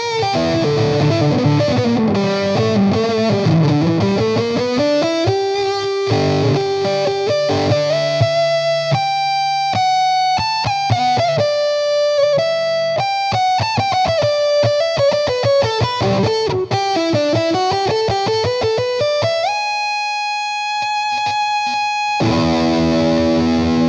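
A USA-made electric guitar played through a Peavey Vortex 2 with its noise gate on, giving a heavily distorted, effects-laden sound. Fast melodic runs and sustained notes play loudly and continuously, with no talking.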